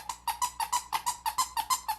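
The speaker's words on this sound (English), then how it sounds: "it's a squeaky toy" A squeaky fidget toy pressed again and again, giving about ten sharp, evenly spaced squeaks close up, with no talking.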